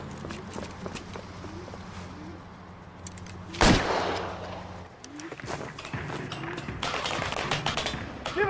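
Gunfire in the video game L.A. Noire: one loud, sharp shot cracks out midway through a tense scene, with scuffling movement and low background game ambience around it.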